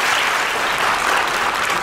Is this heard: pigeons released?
no